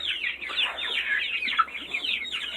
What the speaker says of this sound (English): I'm gonna feed my chickens a bunch of chickweed